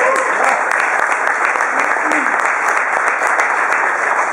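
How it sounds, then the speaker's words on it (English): A crowd at the Denver mayor's GLBT meet and greet applauds his remarks on same-sex marriage, loud, continuous clapping close by that holds steady throughout, with faint voices underneath. "I mean that I appreciate the applause"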